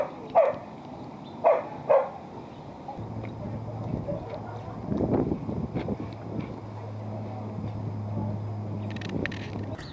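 A few sharp dog barks ring out near the start, then a busier stretch of movement, low rumbling and voices follows, with the barking giving way to general indoor activity.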